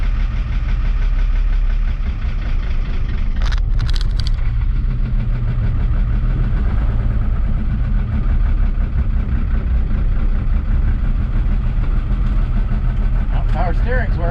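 A 1975 Chevy Stepside diesel truck engine running steadily with a low, knocking rumble, loud and close, while a person talks over it and a few brief clanks sound near the start.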